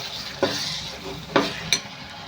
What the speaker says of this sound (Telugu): అల్లం వెల్లుల్లి పేస్ట్ అయితే వేసుకుని కలిపేసుకున్నాం